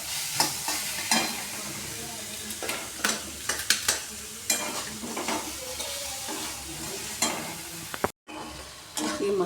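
Fried pieces are stirred into cooked masala in a pan for fried rice, with a continuous sizzle under frequent sharp spoon scrapes and knocks against the pan, close up and without talk; a brief dropout near the end.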